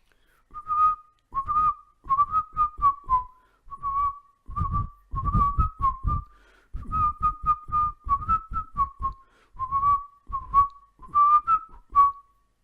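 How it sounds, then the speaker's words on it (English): Someone whistles a bouncy tune in short melodic phrases, with soft thumping noises in the background between notes. "I don't know what song we should be whistling"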